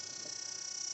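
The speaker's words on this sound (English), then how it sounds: "So heater's on in the background." A space heater runs steadily in a cold garage, giving a faint, constant fan whir with a high hiss.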